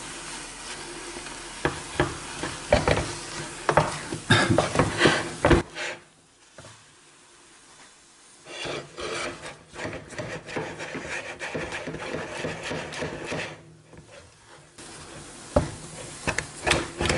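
Thick choux pastry dough stirred in a pan with a wooden utensil, heard as close, repeated scraping and rubbing strokes with a faint sizzle, broken by two short pauses.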